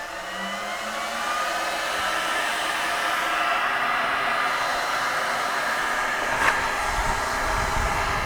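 A helmet pumper blower fan runs inside an M998 HMMWV, a steady loud airy whoosh close by that holds level throughout, like a hair dryer, with no talking.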